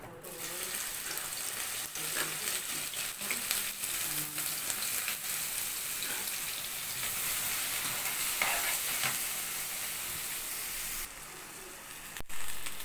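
Chopped onions frying in hot oil in a pan for egg curry, a steady bright sizzle with intermittent scraping stirs, close and continuous for the whole stretch.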